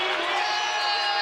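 A basketball arena crowd roars loudly and without a break, a dense wall of cheering and whooping that fills the whole brief moment.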